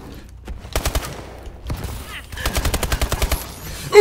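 Bursts of rapid automatic gunfire in Call of Duty Advanced Warfare, two distinct volleys of sharp repeated shots with a gap between, loud and close, ending on a heavier single boom.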